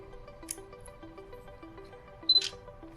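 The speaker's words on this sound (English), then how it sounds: "you can use a mechanical shutter release on there" Two crisp mechanical camera shutter clicks from a Sony DSC-RX10 II, one early and a double click later, over a faint steady electronic tone.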